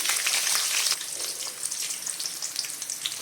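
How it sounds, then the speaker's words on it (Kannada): Two small onions frying in hot oil with a teaspoon of mustard seeds, a steady close sizzle with crackling pops, dense at first and easing slightly after a second, no talking. "ಈರುಳ್ಳಿನ ಚೆನ್ನಾಗಿ ಫ್ರೈ ಮಾಡೋಣ."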